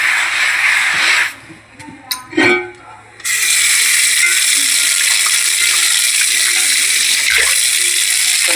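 Tap water runs steadily into a sink while a cast iron pan is washed, a broad rushing flow broken by a short gap of splashing and clatter before resuming loud and constant.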